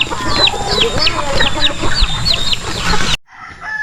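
Chickens cluck on a farm in a rapid, close chatter of short, bright calls. The sound is loud and continuous, then cuts off abruptly into a quieter tail of a few faint calls.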